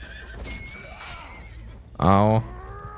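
A horse in the video game Mount and Blade 2: Bannerlord gives one loud, short whinny during a battle, with faint background game noise before it.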